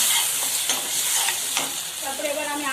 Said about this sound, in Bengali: আমি একটু জাস্ট কষাই নেব হালকা